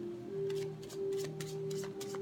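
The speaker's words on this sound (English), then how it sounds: "first shuffle, 3 shuffles we'll have." A deck of tarot cards is shuffled up close, giving a quick run of soft riffling bursts in a steady rhythm over a faint background tone.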